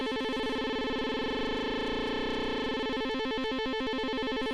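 Mawk Werkstatt-01 analog synthesizer with its LFO rate being raised, producing a loud, dense, distorted drone of stacked harmonics that wobbles faster and faster into a buzzing, rippling texture, steady and continuous throughout.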